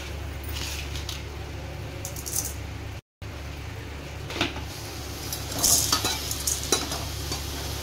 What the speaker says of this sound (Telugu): ఈ చికెన్లోకి పసుపు కొద్దిగా వేసి బాగా దీంట్లో ఉండే కొవ్వు పోయేంత వరకు పెనుములో వేయించుకోవాలి